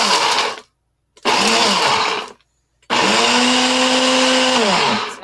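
Food processor grinding walnuts into fine crumbs, three loud close bursts of whining motor roar, two short then a longer run, with brief silences between and pitch sagging as each burst winds down.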